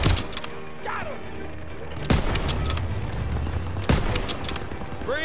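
Gunfire in the WWII shooter Call of Duty WWII comes as loud, sharp shots in bursts, with several heavy cracks spaced a couple of seconds apart, over a noisy battle background with brief voice fragments.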